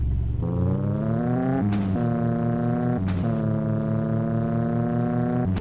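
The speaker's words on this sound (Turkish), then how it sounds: "Şaplak atar gibi egzoz patlatıyor." A Tofaş car engine in a Turkish mobile driving game revs hard and holds a droning pitch, with sharp exhaust pops cracking between gear changes, loud and close.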